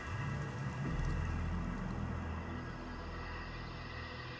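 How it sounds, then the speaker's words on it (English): Steady rain falls as a dense, even hiss with a faint low rumble like distant thunder, continuous and moderately loud with no voices. "and it begins to rain."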